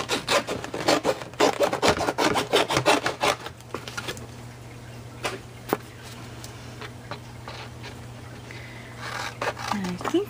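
Scissors cut a strip of cereal box cardboard in a quick run of close, crisp snips and rasps, followed by quieter handling and rustling, while someone talks over it.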